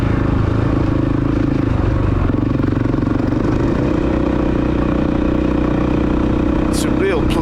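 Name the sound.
Honda CRF300L motorcycle riding on a trail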